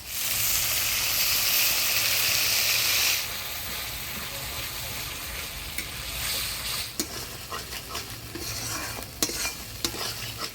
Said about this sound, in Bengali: কাজু পোস্ত মগজ দিয়ে ভালো করে নাড়াচাড়া করে নিলাম